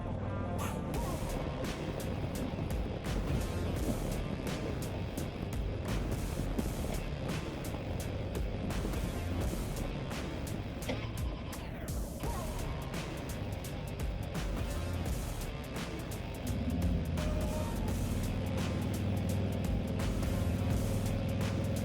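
A 2024 Harley-Davidson Road Glide Limited motorcycle cruising on the highway, its engine rumble mixed with heavy wind roar and buffeting that grow louder and deeper toward the end.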